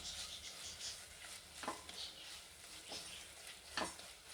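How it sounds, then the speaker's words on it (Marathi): Jaggery and semolina are stirred and roasted in a pan for a fasting halwa, giving a faint, soft sizzle and a few scraping strokes of the spoon, with no talking. "गुळाला व्यवस्थित परतून घ्या रव्यासोबत"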